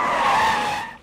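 Car tires skid and squeal loudly as the vehicle pulls into a parking spot, a sustained screech that holds steady for most of a second before cutting off abruptly.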